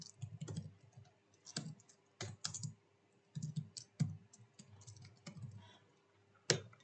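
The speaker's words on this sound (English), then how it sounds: "then you type in your keywords." Computer keyboard typing in short quick bursts of close, crisp key clicks separated by brief pauses, heard alone without any voices.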